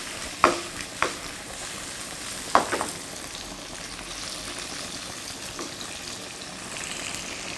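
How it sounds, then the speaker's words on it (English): Tofu being stir fried and shaken in a pan, a few sharp clatters near the start and around two and a half seconds, then a soft, steady sizzle continuing alone. "give the tofu a little bit of a shake."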